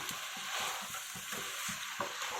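A spoon scrapes rhythmically through gongura mutton curry in a pan, steady stirring strokes over a constant sizzle, close and moderate in level.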